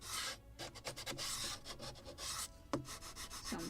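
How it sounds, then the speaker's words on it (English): Sandpaper rubs along the softly rounded deck edge of a wooden model of the 1776 gunboat Philadelphia, a steady run of close back-and-forth strokes with short pauses between passes and no voices. "some sanding because I can see some marks from pencil"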